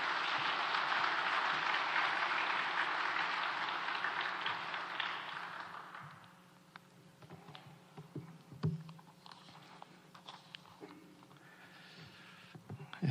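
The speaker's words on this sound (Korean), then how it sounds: "감사하는 마음으로 박수하겠습니다" A church congregation claps to welcome a pastor at a Holy Week early-morning prayer service, with a full burst of applause lasting about six seconds before it dies down into a quiet room with faint scattered sounds.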